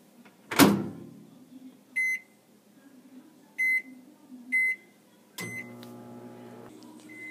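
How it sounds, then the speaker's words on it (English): Microwave oven heating a plastic tub of milk: a door thump, then a few short electronic beeps from the keypad, followed by the low steady hum of the oven starting to run. "now I put it in the microwave for 30 seconds."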